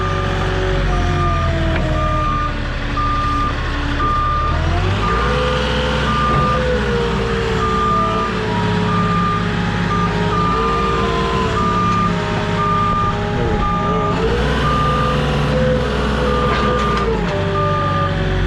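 A delivery truck-mounted forklift carrying stone reverses near a driveway, its steady backup beeper repeating loudly over a constant engine drone that rises and shifts as it maneuvers.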